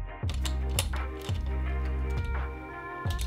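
Screws turned into a Tilta camera cage for a BMPCC 4K rig, giving repeated ratcheting, clicking metal turns in a steady rhythm, close up and fairly quiet.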